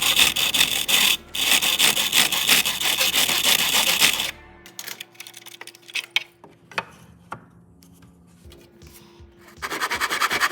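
Hand saw cutting through wood, rapid steady rasping strokes up close for several seconds, then a pause with scattered clatter and light handling noises before the sawing resumes.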